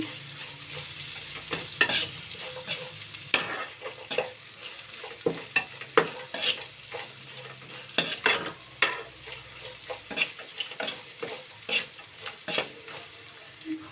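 A spoon stirs flattened rice puliyogare with turmeric and salt in a pan, giving repeated scraping clacks at an uneven rhythm over a soft background sizzle, close and moderately loud with no talking.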